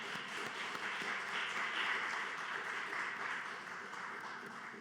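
Congregation claps in sustained, even applause throughout a Wednesday devotional service at a Bucheon church, sounding soft and distant, with no talk over it.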